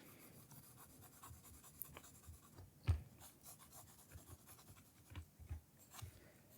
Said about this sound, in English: I'm going to shade in all of that using my pencil on its side